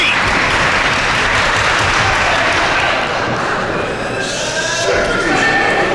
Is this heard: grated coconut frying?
no